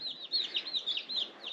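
Newly arrived Rhode Island Red chicks cheeping, a rapid run of high, thin peeps repeating in quick succession, close and clear with nothing else over them.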